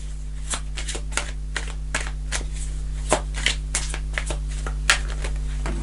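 Tarot cards are shuffled by hand in a quiet room, a run of soft, crisp riffles and snaps, some sharper than others, close and alone.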